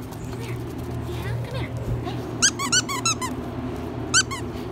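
Two dogs playing indoors with a squeaky toy, several bright squeaks in short bursts over a low hum, with people talking and laughing nearby.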